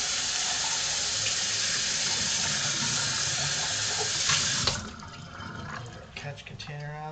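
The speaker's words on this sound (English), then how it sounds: "Rinse this out real quick." Tap water runs steadily into a sink while a part of an Omega 8003 juicer is rinsed, a loud broadband hiss that drops away near the end into splashes and drips.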